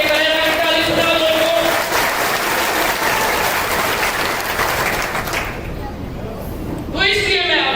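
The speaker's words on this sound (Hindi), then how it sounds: "अभी तो मेरे करेरा की ताली सुना दो" Sustained applause from an audience at a public gathering, loud and steady for over five seconds before thinning out, with a voice speaking over the closing moments.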